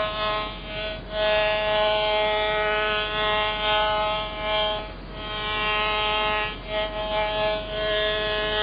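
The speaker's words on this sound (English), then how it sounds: "what you're hearing is as you're going away from the antenna, you're hearing fade outs." Radio signal received while moving away from an antenna, a steady harmonic hum that repeatedly dips and fades in and out at irregular intervals, moderately loud with no speech.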